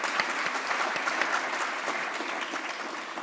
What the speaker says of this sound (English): I just want to start by giving another round of applause